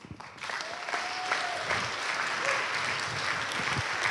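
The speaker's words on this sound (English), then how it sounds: "But let's give a last round of applause to Congressman Jared Polis" A crowd applauds steadily, dense clapping sustained throughout with no voices over it.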